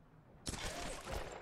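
A single sharp gunshot aimed at a lock in Tomb Raider (2013), a sudden loud crack after a quiet moment followed by a lingering rumbling tail and echo.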